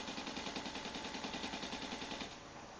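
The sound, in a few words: assault rifle fully automatic fire, Battlefield 3 video game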